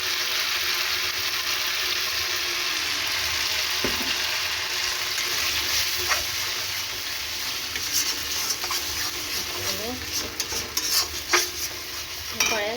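A paste of mustard, poppy seeds and melon seeds fries in a pan with a continuous close sizzle, while a utensil stirs and scrapes with occasional clinks toward the end.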